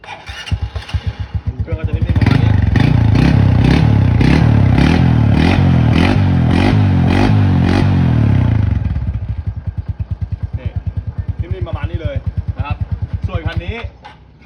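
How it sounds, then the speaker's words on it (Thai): A Honda Wave 125 motorcycle engine is kick-started and idles with a rattling, throbbing clatter, close by, then settles down; a voice talks briefly near the end. "ส่วนคันนี้เป็นสตาร์ทมือ เดี๋ยวติดเครื่องไปฟัง"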